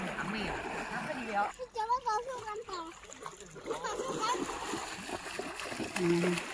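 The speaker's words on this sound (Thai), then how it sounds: "ตอนนี้งามก็บอกแม่นอนลงนอนลงอาบน้ำเร็ว" Several elephants bathing and splashing in water, with steady close splashing and sloshing throughout while people talk over it.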